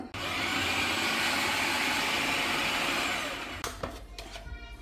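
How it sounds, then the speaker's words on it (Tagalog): A food grinder whirs loudly and steadily for several seconds as it minces garlic, celery and carrot for siomai, then cuts off, followed by a few clattering knocks and rattles. "Gilingin natin with carrot."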